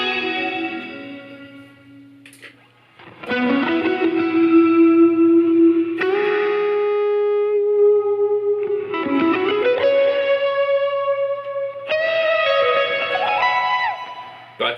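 Electric guitar played through a Line 6 Helix modeler with reverb and delay and dynamic splits, sustained melodic notes ringing out with lush echo trails and tails, loud and upfront with no talking.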